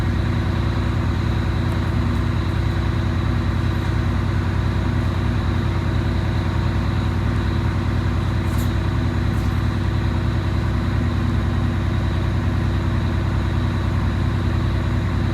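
A Crown bus with a Detroit Diesel 6V92TA engine runs steadily throughout, a loud, constant low diesel drone with no talking over it.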